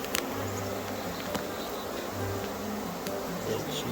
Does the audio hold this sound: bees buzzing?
yes